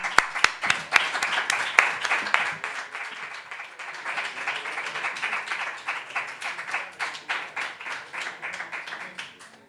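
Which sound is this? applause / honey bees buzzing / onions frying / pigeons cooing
applause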